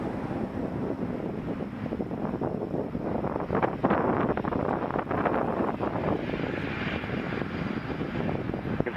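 Jet aircraft engines roar steadily on the runway at Toronto Pearson Airport, runway 23, a broad continuous rumble with some wind buffeting on the microphone and no talk.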